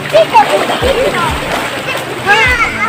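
Children splash and wade in a river at a waterfall site, giving continuous close splashing and sloshing water while kids shout and people talk throughout.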